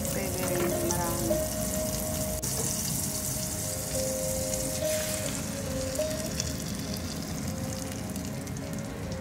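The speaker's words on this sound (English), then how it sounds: "Butter na lang. I-fry na lang. Parang hot cake." Zucchini hot cake batter fries in butter in a pan, a steady crackling sizzle with faint popping that continues evenly at close range, with no talking over it.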